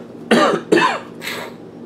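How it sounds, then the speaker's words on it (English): Two harsh, close coughs in quick succession, followed by a softer, breathy throat-clearing rasp. "I'm starting to cough here and choke a little bit"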